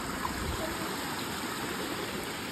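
Stream water flowing along the Devkund waterfall trek in the Tamhini ghat during monsoon, a steady, even rush of moderate loudness with no voices.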